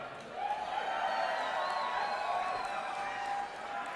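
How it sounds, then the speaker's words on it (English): A large crowd at the Quake finals at QuakeCon 2016 cheers and shouts in a steady, sustained roar that holds for several seconds before easing slightly. "So, how many Rapha fans do we have in the crowd?"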